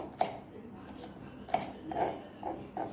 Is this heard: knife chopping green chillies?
yes